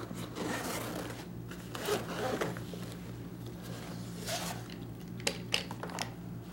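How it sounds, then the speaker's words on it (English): Faint rubbing and fabric rustling, with a few brief zipper-like rasps and small clicks near the end, all close and quiet. "Where's the zipper?"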